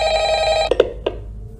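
An office desk telephone rings in the horror video game Five Nights at Freddy's, a steady electronic trill that breaks into a few sharp clicks and stops, close and clear over a low background hum.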